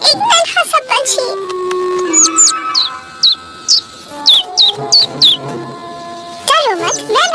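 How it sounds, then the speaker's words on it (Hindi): A small cartoon bird chirps in short, high, sweeping tweets in a quick run, then a louder trilling burst near the end, with a voice speaking in between. "एक नन्हा सा पंछी।"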